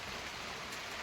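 Steady rain falling on a farm during the monsoon season, a dense continuous hiss of drops that stays even and close throughout, with no voices.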